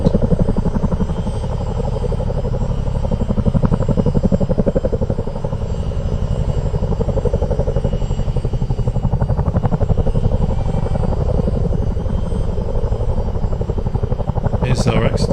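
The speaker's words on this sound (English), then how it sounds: "Now you can hear the Chinooks." Chinook helicopters fly in Microsoft Flight Simulator, their tandem rotors producing a steady, loud, rapid thumping drone that holds for the whole stretch, with a faint sharp sound near the end.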